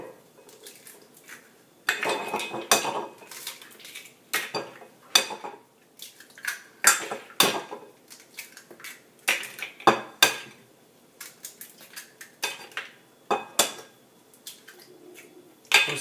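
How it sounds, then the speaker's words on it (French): Six eggs cracked one after another into a salad bowl while making a chocolate brownie batter, giving a run of sharp, close clicks and knocks of shell on the bowl's rim amid light kitchen clatter. "On en profite ensuite pour casser nos 6 œufs dans un saladier"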